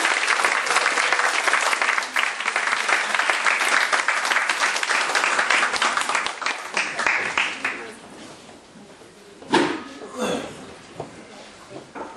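An audience at a year-end church concert applauds loudly for about eight seconds. The clapping then thins and fades out, and a few quieter sounds and voices follow.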